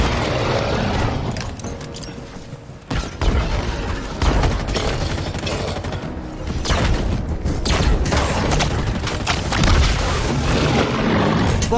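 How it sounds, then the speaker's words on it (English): Dense explosions and gunfire in Halo Infinite, loud continuous booms and crackling blasts layered over each other for the whole stretch, with a brief dip before the chaos resumes. "Fucking explosions everywhere."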